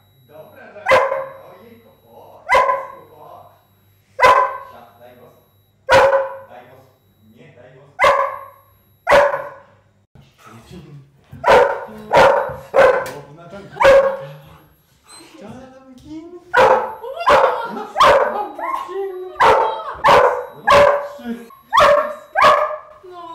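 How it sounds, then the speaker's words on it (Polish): A dog barks loudly and repeatedly at close range, with rhythmic single barks speeding into rapid volleys and some yips, while a person talks intermittently. "Zostawię też mikrofon, żeby było słychać jego szczeki"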